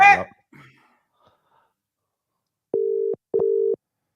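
A voice is heard briefly, then after a pause a phone line gives two short, steady buzzing tones in quick succession, clear and close.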